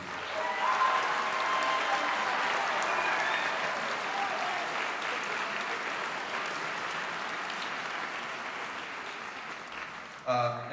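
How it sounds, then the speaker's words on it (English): Audience at a middle school honor band concert applauding band directors, a long, steady round of many hands clapping that slowly tapers, with a brief voice near the end. "can you stand up and give them a round of applause too?"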